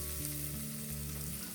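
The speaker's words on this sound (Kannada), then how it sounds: "ಹಸಿಮೆಣಸಿನ್ಕಾಯಿ ಖಾರ ನೀವು ಬೇಕಾದಷ್ಟು ನೋಡಿಕೊಂಡು ಹಾಕೋಬೋದು. ಇವನ್ನೆಲ್ಲ ಚೆನ್ನಾಗಿ ಫ್ರೈ ಮಾಡ್ಕೊಳ್ಳಿ" Green chillies and curry leaves fry in oil for brinjal sambar, a short, even sizzle over a low steady hum, with no one speaking.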